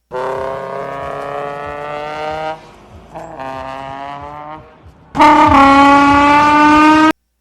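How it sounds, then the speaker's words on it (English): Honda VTEC engine revving hard, a loud, bright tonal scream that holds, dips between shifts, then climbs to an even sharper, louder wail before cutting off abruptly. "We're going to do some top 5 best VTEC sounds ever."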